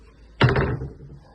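A door in a walk-in closet of a house for sale shuts with one solid thud and a short rattle, close and loud.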